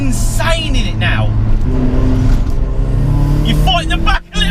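A turbocharged Mazda MX5 accelerates hard along a B-road, its engine tone loud and close with rising harmonic drone that climbs through the revs. An excited voice talks over it before a brief dip near the end.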